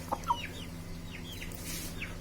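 A heavy Aseel hen gives a couple of short clucks near the start, then softer clucking chatter continues over a steady farmyard background.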